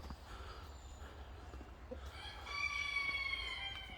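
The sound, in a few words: chickens clucking and rooster crowing outdoors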